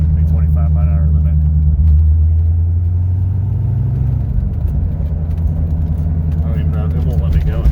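A Chevrolet C4 Corvette engine drones low and steady in third gear at low road speed, a constant rumble with a slight pitch shift midway, while someone talks over it.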